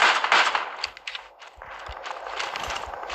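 Rapid bursts of video game gunfire crackle through a fast-paced shooter round, repeated shots stacking into dense volleys that ease briefly in the middle and then resume, with no voices over them.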